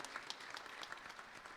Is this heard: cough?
no